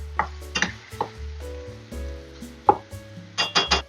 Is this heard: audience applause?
no